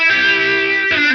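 An organ through a Line 6 Helix rotary speaker effect, with drive placed before the amp, sounds a distorted chord with a gritty, buzzing tone, then shifts to a new chord near the end, brief and loud.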